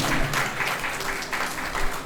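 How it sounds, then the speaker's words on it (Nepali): Applause at a Christian wedding ceremony: a crowd claps steadily and densely for a couple of seconds, close and fairly loud. "हामी ताली बजाएर हामी उहाँलाई धन्यवाद दिनेछौँ"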